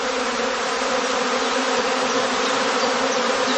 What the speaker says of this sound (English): They collect to form a swarm cluster of increasing size.